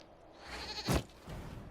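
A single short goat bleat from Dragon Age: Inquisition stands out faintly above quiet ambient background noise.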